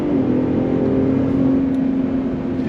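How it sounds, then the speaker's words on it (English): A 2022 Ford F-150 Raptor pulls away from a dead stop under throttle, with a brief tire spin: a steady, close engine drone with a rising tonal whine, loud and continuous, no talk. "We are gonna go on throttle from a dead stop."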